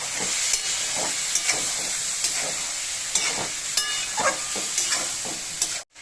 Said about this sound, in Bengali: এই মশলা ধোয়া জলটা অল্প করে দিয়ে দেব দিয়ে ভালো করে কষিয়ে নেব